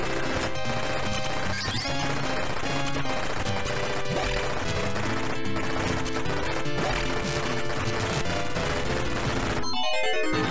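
Rapid bursts of arcade gunfire from the 1985 Capcom game Senjō no Ōkami crackle continuously over looping game music, loud and dense, ending in a descending electronic sound effect.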